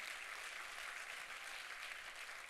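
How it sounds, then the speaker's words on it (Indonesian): A church congregation applauds during a sermon, a dense, even hiss of clapping that stays constant and sounds faint and distant throughout. "Boleh saya dengar tepuk tangan yang paling meriah?"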